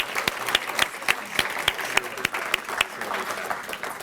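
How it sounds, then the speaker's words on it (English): A modest audience at a volunteer recognition luncheon claps for award winners, with sparse, distinct individual claps standing out over a thin patter of applause from a smallish group. "give a large round of applause for everybody today and for all of our award winners and certificate holders"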